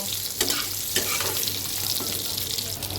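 Potato pieces fry lightly in hot oil, giving a steady, close sizzle with soft crackles and a few stirring scrapes throughout, no voices.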